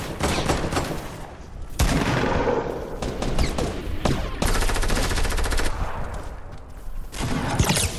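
In the Fortnite video game, loud bursts of gunfire repeat in rapid volleys with brief gaps between them. The rattling shots are close and dominant throughout.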